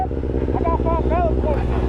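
A Kawasaki Z900 motorcycle running with no exhaust fitted gives a close, steady engine drone with pitch that climbs and dips, heard under people talking.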